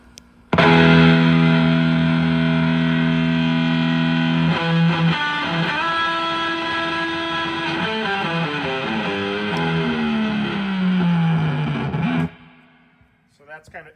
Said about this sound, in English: they call it a high voltage distortion unit